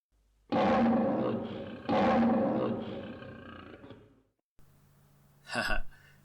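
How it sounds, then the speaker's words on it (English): A vicious lion roars in the PC Engine video game Dragon Half: two long, loud growling roars one after the other, then a short pause and a brief sharp burst over a low steady hum. "What a vicious lion."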